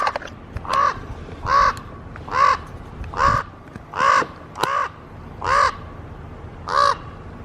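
A crow caws eight times in a slow, even series outdoors, each harsh call loud and fairly close, with a faint background hiss between calls.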